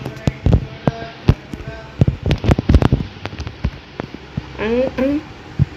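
Grenade blasts and gunfire in the mobile game Mini Militia, with a burst of sharp cracks and thumps followed by scattered pops and a rising game tone, under excited voices talking.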